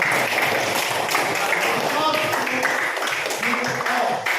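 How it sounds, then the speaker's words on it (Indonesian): Students in a classroom clap for their own work, a short burst of close, busy applause with voices mixed in. "Ayo kita tepuk tangan untuk pekerjaan kalian"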